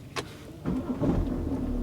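A damaged BMW after a crash starts up, with a brief click and then a low engine rumble that settles into a steady idle close by as the car begins to move.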